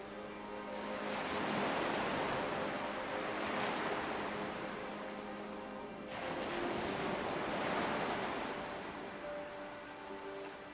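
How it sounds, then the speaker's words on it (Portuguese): Rough Atlantic-influenced sea waves on the Algarve coast, breaking as two long, loud surges of roaring surf that swell, wash and fade, with no voices. "o mar, mais agitado, já faz antever a influência atlântica."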